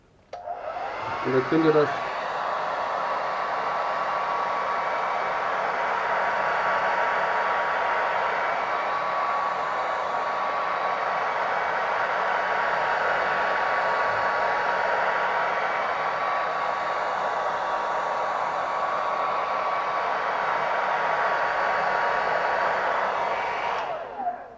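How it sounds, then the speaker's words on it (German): A handheld hair dryer on a medium, not-too-hot setting blows steadily for over twenty seconds with a loud, even whoosh and a faint whine, starting with a click; a voice speaks briefly near the start. "Jetzt nehme ich mal den Föhn, ich mache den mal auf Mittelstufe, nicht zu heiß."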